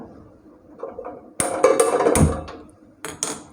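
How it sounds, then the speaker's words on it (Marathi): A gas stove knob turned and lit under an idli cooker in a home kitchen, giving a few sharp metallic clicks and clatters, close and moderately loud, with a brief burst of ignition clicking near the end. "आता पहिल्यांदा गॅस चालू करून घ्यायचा"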